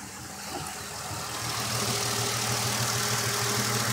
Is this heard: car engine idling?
yes